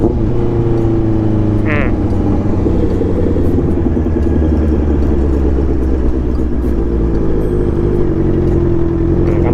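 A Honda CBR650R motorcycle engine runs loud and steady up close as the rider shifts up through the gears, with a brief whine in the middle of the run.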